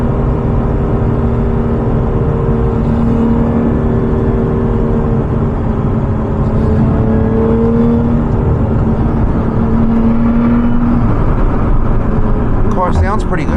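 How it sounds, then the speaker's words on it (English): A 2024 Lotus Emira sports car in sport mode, manual shift, heard from inside while driving: a loud, continuous engine drone with rising and falling pitch over road roar, voices faint near the end. "Car sounds pretty good."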